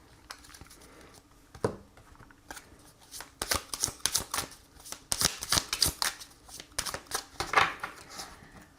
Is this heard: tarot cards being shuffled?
yes